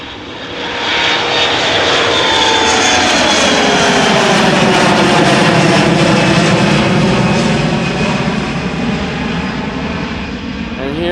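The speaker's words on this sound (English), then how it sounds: "Here we have the first CRJ of the day going to Copenhagen from SAS" An SAS CRJ regional jet departs Amsterdam Schiphol for Copenhagen, its loud engine roar swelling and sweeping past with a shifting whine, strong and close throughout the passage.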